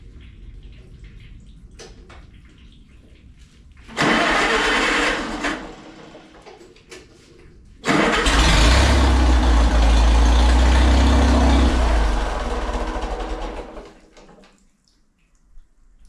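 An old Oliver Super 66 tractor engine cranks and fires in two loud bursts: a short run, a pause, then a roaring stretch of several seconds that cuts off abruptly as its radiator blows.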